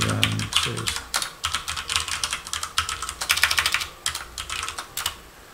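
A command being typed on a computer keyboard, with quick, close, irregular clattering keystrokes coming in short runs and no talk.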